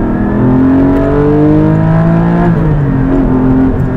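A Porsche 718 Cayman GT4 engine revs hard and loud toward 8,000 rpm, pitch climbing through the gears in rising sweeps, with a brief dip between shifts.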